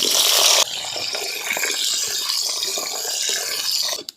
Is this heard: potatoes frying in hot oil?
yes